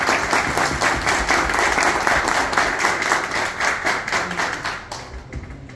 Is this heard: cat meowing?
no